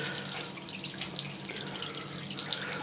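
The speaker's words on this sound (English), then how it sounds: "the water is coming out of the tap totally cold" Cold water runs steadily from a hot water tap in a home with faulty plumbing, a continuous close hissing splash lasting throughout with no talk.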